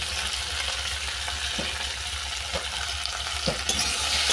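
Soybean chunks fry in a pan with salt and turmeric for a vegetarian curry, a constant bright sizzle with a low hum beneath and occasional soft stirring knocks, no voices.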